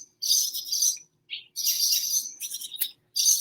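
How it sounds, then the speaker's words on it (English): Small birds chirp and tweet outdoors in bursts of bright, high calls separated by short pauses, fairly close and clear with no talking. "I'm being invaded by birds here."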